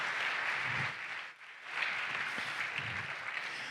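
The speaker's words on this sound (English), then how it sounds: "Let's give them a round of applause real quick." Audience applause in a conference hall after the React team is introduced, a steady wash of clapping from many hands with a brief dip partway through, no voices over it.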